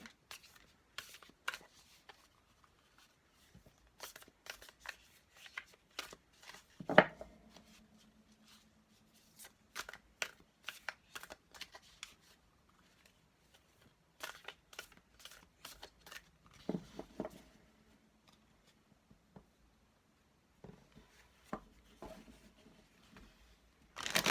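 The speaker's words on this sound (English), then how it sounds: "the two decks that usually give me the most trouble when it comes to shuffling" Tarot cards being shuffled by hand, two decks handled in turn, giving soft papery riffles and flicks in scattered bursts with quiet gaps, close and fairly faint, with a low hum in the background.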